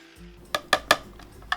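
A few sharp clinks and taps of a utensil against a bowl while a homemade lime and cilantro dressing is being mixed. The strikes come close together and ring out clearly in a quiet, close-up setting.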